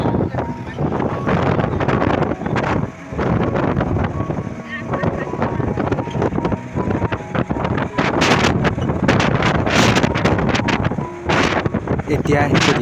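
Cold wind sweeps across the Kalia Bhomora bridge, roaring and buffeting hard against the microphone in a loud, unbroken rush, with faint muffled voices under it.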